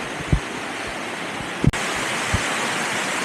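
Steady, loud rush of river water tumbling like a small waterfall along a hiking trail near Bogor, a constant broad roar with a few faint knocks, no voices.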